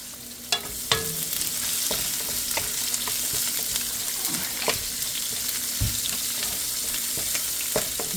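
Garlic, onion and ginger sizzle in hot oil in a pan, a steady frying hiss broken by scattered clinks and stirring knocks.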